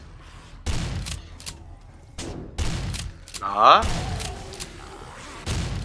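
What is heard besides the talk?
gunshots in the video game 7 Days to Die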